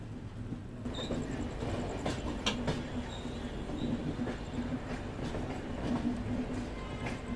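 Mangla Lakshadweep Express train rolling into Itarsi Junction station, heard from on board as a continuous rumble with clickety-clack wheel beats and faint squeals, fairly quiet and steady, no talking.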